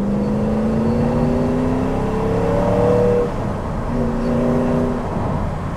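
Spyker C8 supercar heard from onboard as its engine revs up in rising sweeps, drops briefly, then climbs again, loud and close with a smooth, crisp throttle note and no talking.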